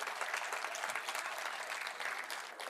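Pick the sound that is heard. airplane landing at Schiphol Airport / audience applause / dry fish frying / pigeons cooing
audience applause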